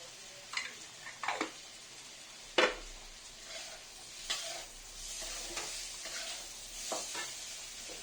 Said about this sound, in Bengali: মশলা কষতে কষতে